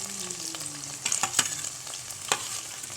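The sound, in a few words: onions and green chillies frying in oil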